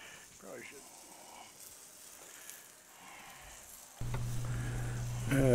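Flour-dredged chicken fried steak sizzles in oil on a Blackstone griddle, starting as a soft crackle and turning into a loud steady hiss partway through. Someone talks over it.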